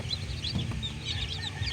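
Brooding hens cluck softly and repeatedly, with low, close, murmuring calls continuing throughout against a faint background of chirps.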